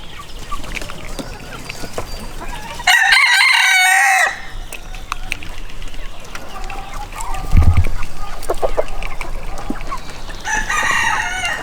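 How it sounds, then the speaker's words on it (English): A rooster crows loudly and close by in a backyard flock kept alongside bantam hens, with two separate crows ringing out amid scattered clucking and background clatter. "Here's the rooster."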